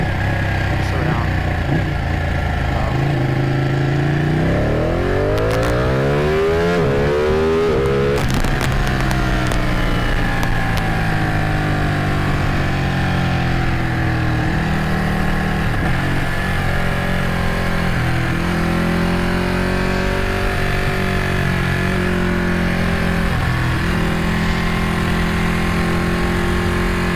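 Ducati Panigale 899 motorcycle engine revving hard while riding, rising and falling pitch sweeps as the rider accelerates through the revs, loud and close over steady wind rush, running continuously.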